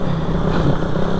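Motorcycle engine running rough in Zamboanga, a steady close, loud drone with a buzzing, uneven texture, heard alone without speech.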